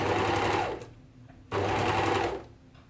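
Sewing machine stitching along on top of Avalon strips in two steady whirring runs with a short pause between, close and loud.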